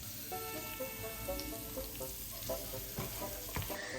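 Semiya upma, vermicelli, sizzles and crackles in a pan on the stove, a steady close frying hiss broken by small stirring scrapes and pops.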